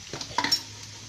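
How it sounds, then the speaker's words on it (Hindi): Chopped onions frying in hot oil, with a brief burst of close scraping and stirring against the pan over a quiet, steady sizzle. "अब प्याज कटी हुई है, इसको मैं गरम तेल में डालूँगी"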